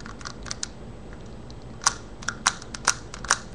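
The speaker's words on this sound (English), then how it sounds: "Great, so you can hear the clicking noise. So this means that the film is being progressed." A homemade pinhole camera having its film wound on, giving a handful of sharp, close plastic clicks spaced irregularly, some in quick pairs, over a quiet room hiss.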